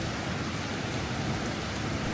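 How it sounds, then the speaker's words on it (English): Heavy rain teems down in Japan, a dense, continuous roar of falling water with no letup and no voices. "Now look at that rain."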